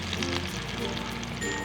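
Fish fries in hot oil with a dense, steady sizzle that hisses close and even for a brief moment, with no break in the crackle.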